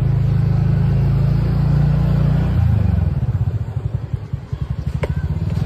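A car engine rumbles close by at night in a housing society garden, holding a steady drone before shifting into a pulsing, rising note as the vehicle comes nearer, with no talk over it.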